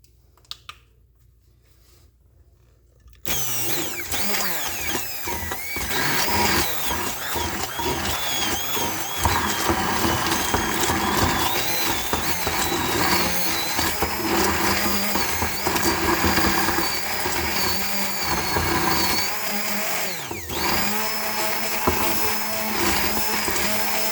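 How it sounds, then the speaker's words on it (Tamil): A hand blender whirs loudly and continuously through beetroot raita after a brief quiet start, its motor pitch wavering slightly as it churns the mixture, close up. "இது இப்போ நாம் நல்லா ஒரு ஹேண்ட் பிளெண்டர் வச்சு பிளெண்ட் பண்ணிடலாம்"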